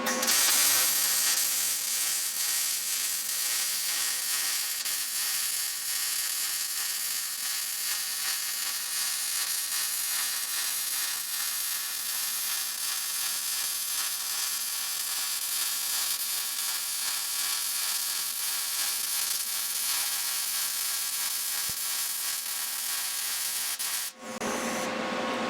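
Welding on a Bronco II project: a steady, loud, crackling hiss of the arc that runs almost without a break, cutting off briefly near the end.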